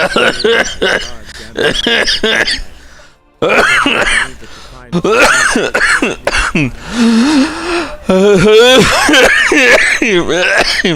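A person coughs and clears their throat between bursts of laughter and chatter, close and loud, with short pauses in between.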